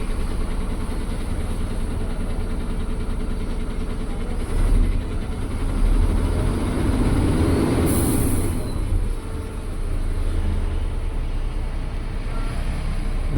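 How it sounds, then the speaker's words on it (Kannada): An Ashok Leyland 2825 BS6 ten-wheeler tipper truck diesel engine runs at a steady idle with a low, continuous rumble, a brief louder surge, and faint background noise. "ಬನ್ನಿ ನೋಡೋಣ ಈ ಒಂದು ಗಾಡಿಯನ್ನ ಸ್ಟಾರ್ಟ್ ಮಾಡಿ ನೋಡೋಣ"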